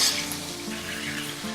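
Tomatoes and green chilies hit a pan of frying onion and garlic, giving a soft, steady sizzle and crackle at close range with no talking over it.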